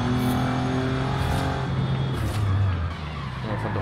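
Tuned Audi RS5 engine in the racing game Forza Horizon 5, heard from outside the car, a steady loud rumbling drone with shifting tonal layers and a brief rise in pitch, no talking.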